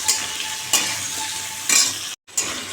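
Bottle gourd and panch phoron spices sizzle loudly in a hot pan, with a few sharp stirring scrapes breaking up the steady frying hiss and one brief cut in the sound.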